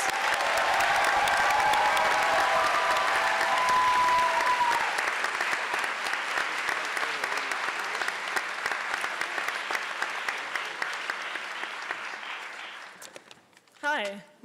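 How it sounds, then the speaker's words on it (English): Sustained applause from a Davidson College convention audience for academic award winners, loud dense clapping that holds for about twelve seconds, then thins and fades, followed by a brief voice. "Please join me in applauding all our academic award winners."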